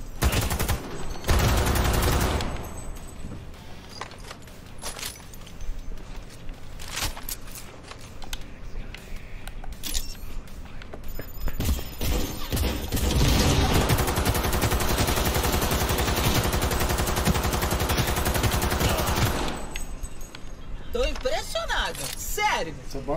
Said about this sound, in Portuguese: Tem que descarregar a arma todinha pra matar o cara, mano.